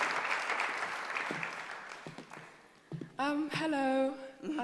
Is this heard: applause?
yes